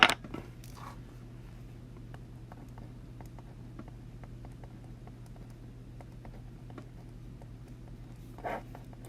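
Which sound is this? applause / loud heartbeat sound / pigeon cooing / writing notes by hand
writing notes by hand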